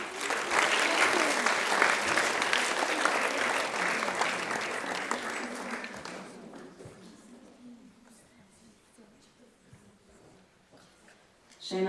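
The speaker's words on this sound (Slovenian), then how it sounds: "še en aplavz" Audience at a school awards ceremony applauds loudly for about six seconds, then the clapping thins out to scattered claps and room noise before a burst at the very end.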